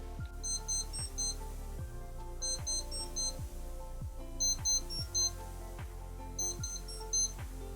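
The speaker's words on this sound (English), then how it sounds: "I know you're here for this alarm, so let's go ahead and give it a listen." Alarm of a Mondaine SBB Evo Alarm wristwatch, heard as bursts of high electronic beeping in repeated short groups, fairly faint, with soft ticking and clicks between the bursts.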